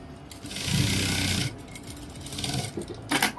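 A sewing machine stitching a padded spaghetti blouse, running in a steady close whirring burst for about a second, then softer fabric handling and short mechanical clicks and rustles, no talk.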